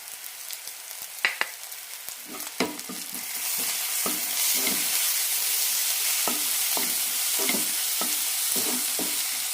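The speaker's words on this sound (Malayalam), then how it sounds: "മസാല നന്നായി റോസ്റ്റ് ആവുന്നവരൊന്ന് വഴറ്റി കൊടുക്കാം" Ginger garlic paste, turmeric and Kashmiri chilli powder are sautéed as a masala for a potato stir fry. A spoon scrapes and taps the pan in an irregular rhythm over a sizzle that grows louder halfway through. There is no speech.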